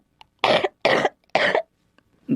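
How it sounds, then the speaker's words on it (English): Three harsh, wet coughs in quick succession, close and loud, followed by the start of a fourth. "that sounds like a nasty cough"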